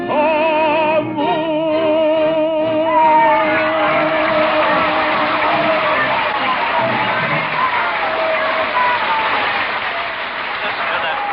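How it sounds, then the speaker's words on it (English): A large opera house crowd roars with sustained applause and cheering, loud and continuous throughout, trailing off from the end of an orchestral passage at the start. "Listen to that crowd. Why, this is the greatest ovation ever witnessed"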